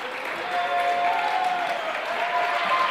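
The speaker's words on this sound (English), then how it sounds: "The seniors get a standing applause here from the students of APA" Students give the seniors a standing ovation at a girls high school basketball game in a gym, with loud sustained clapping and crowd noise filling the space and faint voices mixed in.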